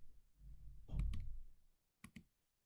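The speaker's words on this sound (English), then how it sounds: "I'm just going to use my arrow keys" Arrow keys on a computer keyboard are pressed in a few quick clicks, a soft cluster of taps followed by a brief double click after a pause.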